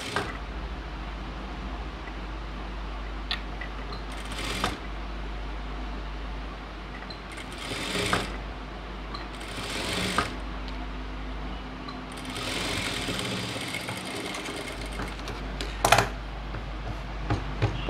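A sewing machine runs in several bursts of stitching along the round neck of a chudidhar top, its motor whir rising and pausing between runs at close range, with no talk.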